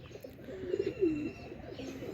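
Domestic desi pigeons coo nearby, a couple of soft low warbling calls rising and falling over quiet background, with no talking.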